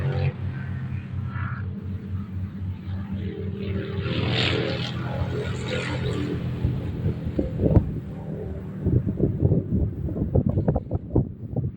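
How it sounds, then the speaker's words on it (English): Breeze blowing across an open grass patch outdoors, a steady low rumbling wind wash over the microphone with gusts throughout and brief rustling bursts toward the end. "Nice breeze."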